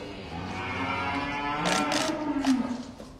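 On a cattle farm, a cow gives a long, moderately distant moo that swells and then trails off, with faint background noise.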